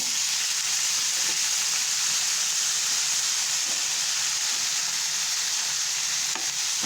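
Tempering dropped into hot oil for a bottle gourd curry, giving a loud, dense, continuous sizzle and hiss that holds steady throughout, heard up close with no voices.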